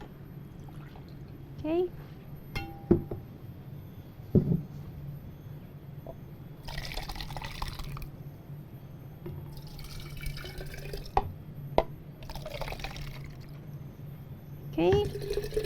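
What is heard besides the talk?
kefir water being poured into a cup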